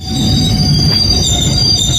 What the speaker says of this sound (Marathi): आपली गाडी तिथे आलेली आहे विगनवाडी रेल्वे स्टेशनवरती